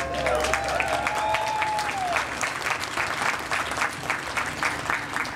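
An audience at a St. Francis College 2017 commencement claps in a sustained, dense round of applause filling a large hall, with a voice briefly heard over the start.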